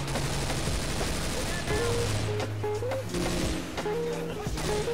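Rapid bursts of AK rifle fire in Left 4 Dead 2, dense and sustained through the whole stretch over game music and ambient noise, with a voice speaking briefly.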